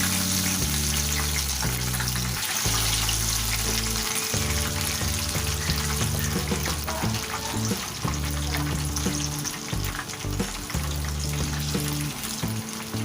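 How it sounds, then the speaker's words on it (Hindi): Fish frying in hot oil in a pan over medium flame, a loud, dense, continuous sizzle and crackle with a low rumble underneath, heard up close throughout. "अब हम इसको फ्राई करके दिखाते हैं।"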